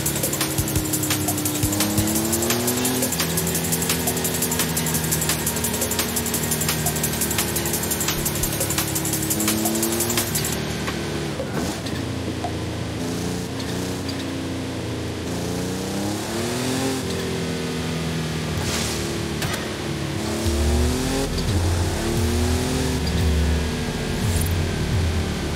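A Ford Bronco's engine drones steadily in Forza Horizon 5 on a long wilderness drive, loud and continuous, with pitch rising and falling as the engine revs through gears, and no talking over it.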